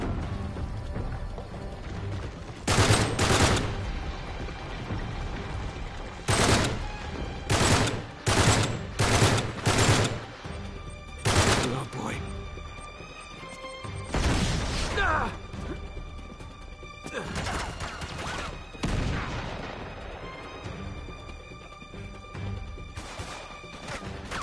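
Gunfire and crashing impacts in the action video game Uncharted 3, with loud, spaced bursts and volleys through much of the stretch over a steady game backdrop.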